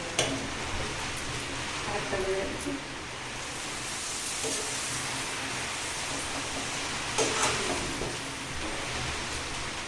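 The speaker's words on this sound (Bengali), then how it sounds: "তেল গরম হয়ে গেছে এক একটা করে পাপড় ভেজে নেবো" Papad frying in hot oil, a steady, dense hiss of bubbling oil that holds for the whole stretch, with a couple of brief louder crackles.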